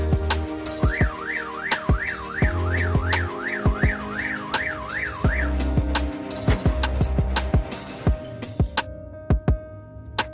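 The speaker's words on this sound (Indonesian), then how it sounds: "Ketika kontak kita diputar on, maka yang terjadi juga alarm ini berbunyi sobat." An aftermarket remote car alarm goes off as the ignition is switched on, giving a loud warbling siren that sweeps up and down in a fast repeating pattern, mixed with rhythmic beeps and chirps, with no talking.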